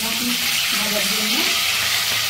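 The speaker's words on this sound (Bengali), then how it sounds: "মাছের মাথাটাকে ভেজে নেব।" Hilsa fish head fries in oil with a dense, close sizzle, and a faint voice murmurs briefly underneath.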